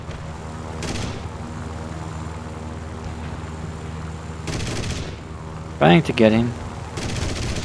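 Yak-9T fighter cannon fire in War Thunder, short bursts of guns over a constant aircraft engine drone, with someone speaking briefly over the noise.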